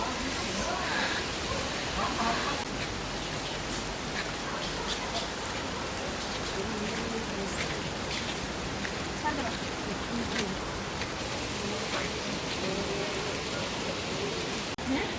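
Rain pours steadily as a dense, even hiss with scattered drops pattering on a tin shed roof on a steep hillside path, constant throughout with no pauses.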